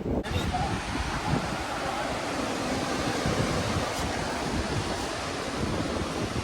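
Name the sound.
natural mountain stream water flowing and falling in North Sikkim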